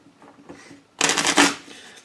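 A faint rustle gives way to a burst of crisp tarot card shuffling, riffling loudly for about half a second before trailing off.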